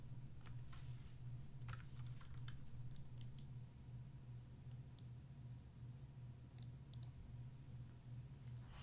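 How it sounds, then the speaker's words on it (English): A computer keyboard is clicked in scattered, faint taps during a gaming stream, the sparse irregular keystrokes sitting over a steady low background hum. "Get my keyboard all adjusted here for ass kicking."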